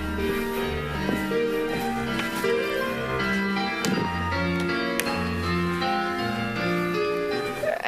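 Piano music from a Chopin score rendered mechanically by a computer, notes evenly spaced and steady in loudness, a continuous flowing passage with no talking.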